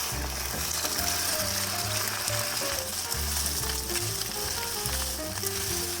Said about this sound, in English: Then, we'll add in 150 grams of beaten eggs, scramble the eggs until it's almost set.